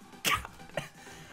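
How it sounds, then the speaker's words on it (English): A man gives a sharp, harsh cough close to the microphone, followed by a smaller second cough, with no talking. "I keep coughing and that just took the freaking air out of my lungs."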